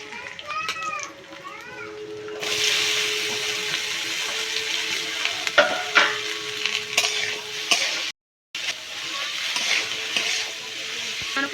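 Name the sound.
chopped carrot and capsicum frying in oil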